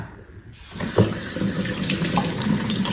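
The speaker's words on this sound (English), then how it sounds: "I'm going to unplug the drain hole and I'm going to water this." Tap water runs steadily as a potted variegated monstera cutting is watered over a watering mat, the flow starting after a brief quiet moment and continuing as a close, even splashing wash.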